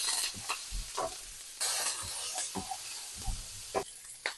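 Small onions fry in hot oil for a traditional Pongal sambar, giving a soft, continuous sizzle broken by repeated scraping stirs in the pan.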